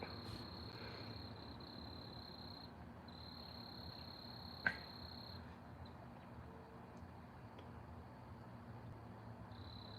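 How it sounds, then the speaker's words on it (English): Steady high-pitched cricket chirping carries through a quiet night, with a single faint click partway through and no voices. "Love the crickets."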